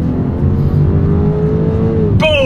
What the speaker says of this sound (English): let's see how quickly we can get our new 2024 X3 here up to speed